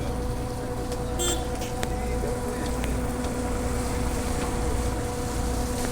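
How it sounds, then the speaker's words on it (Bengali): A launch boat passes by on the river during the Gangasagar Mela, a steady low motor rumble with a faint tonal hum under wind and crowd noise. "আমাদের সামন দিয়ে একখানা লঞ্চ আসছে দেখো বন্ধুরা লঞ্চটা ভালোই জোরেই আসছে"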